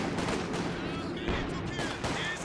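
Continuous gunfire from a five-man grenadier squad in a real-time strategy battle, a dense rattle of shots over battle noise with a commentator talking throughout.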